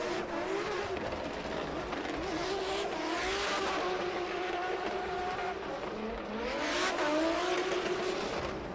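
A drift car's engine screams at high revs around the final corner of an Oman drift championship qualifying run, with tire squeal rising and falling in pitch, loud and continuous throughout.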